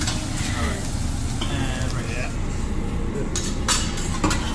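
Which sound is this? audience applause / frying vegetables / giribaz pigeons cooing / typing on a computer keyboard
frying vegetables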